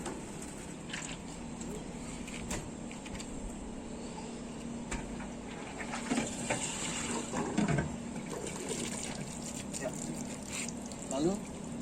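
Water running steadily during a rinse of the bottom part of a seawater electro water-treatment unit, a continuous close splashing hiss with occasional trickles and knocks.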